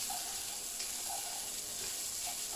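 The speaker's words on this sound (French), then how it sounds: "on va les laisser frire, on va les laisser se colorer, tout en remuant" Spätzli fry in a pan while being stirred, giving a steady, soft, continuous sizzle with faint bubbling and no voices.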